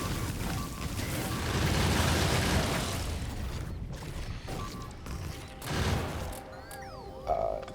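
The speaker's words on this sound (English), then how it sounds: "that's the noise of petrochem exploding" A petrochemical plant blowing up in the Factorio video game, rolling bursts of explosive rumble and crackle that swell and fade in waves, with mechanical game noises underneath.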